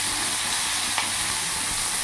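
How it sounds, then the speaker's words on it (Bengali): Finely chopped large onion frying in hot oil with cumin seeds, a loud, steady sizzle and crackle close up with no voices, continuous throughout. "পেঁয়াজটা কিছুক্ষণ ভাজা ভাজা করে নিয়েছি"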